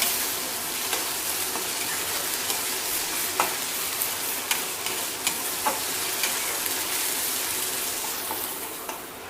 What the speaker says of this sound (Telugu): అల్లం వెల్లుల్లి పేస్ట్ కూడా కొంచెం ఈ ఆయిల్లో ఫ్రై అవ్వాలి, పచ్చివాసన పోయేంత వరకు.